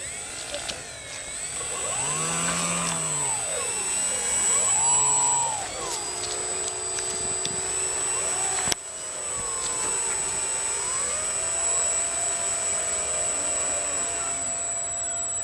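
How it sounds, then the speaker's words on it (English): An E-flite Pawnee RC model airplane on floats flies past, its electric motor whining loudly with rising and falling pitch sweeps as it passes overhead repeatedly, then droning steadily farther away. "Now we'll demonstrate the flight of the Pawnee E-Flight"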